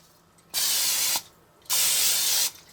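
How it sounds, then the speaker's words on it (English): Two bursts of spray aimed at an unplugged kitchen appliance, each a loud, close hiss of about half a second to a second, separated by a short quiet pause. "This is unplugged. Let's spray it."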